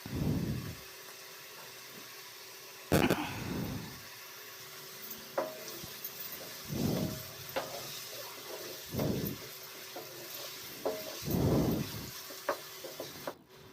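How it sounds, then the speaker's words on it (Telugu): Onions fry in a pan for a pondu gappa fish curry, a soft steady sizzle broken by repeated bursts of stirring and scraping, close and fairly quiet with no talking. "ఉల్లిపాయలు నీరంతా పోయి మొత్తం బాగా వేగిపోయినాయి"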